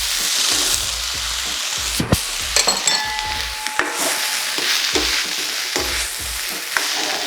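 Thai vegetable fried rice stir-fried in a pan with soy sauce and fried tofu, a steady loud sizzle broken by scraping stirs and a few metallic clinks of utensil against pan, with no voices.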